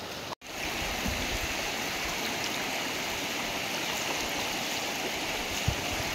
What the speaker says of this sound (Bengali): রাস্তার মাঝখানে দেখো নাও বর্তমানে কোমরের সমান পানি